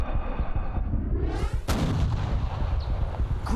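A single loud, close rifle shot cracks out during a hunt and is followed by a rolling echo that dies away, with background noise before it and no talk.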